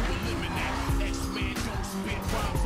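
Honda S2000 braking hard through a turn in the racing game Need for Speed Underground 2, tires squealing over a loud, steady engine drone with a voice talking over it.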